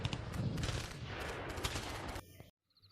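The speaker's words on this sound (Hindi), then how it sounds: "केवल गोलियों की आवाज़ और बम के धमाके थे जो सभी जवानों का दिल दहला रहे थे" Dense bursts of gunfire crackle in rapid succession with heavier bomb blasts mixed in, loud and continuous in a night battle, before cutting abruptly to near silence.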